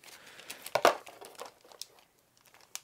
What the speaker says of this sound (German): In der Tüte haben wir einmal aufreißen.